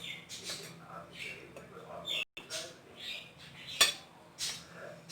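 Baking powder being stirred into sifted flour (maida) in a bowl for a marble cake, with scattered light scrapes and soft clinks of a spoon against the bowl and one sharp metallic tap, all fairly quiet.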